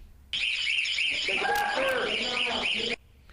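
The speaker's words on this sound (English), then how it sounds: "Was there an alarm going off at that time?" A loud, steady electronic alarm blares continuously for nearly three seconds, then cuts off abruptly, with faint voices underneath.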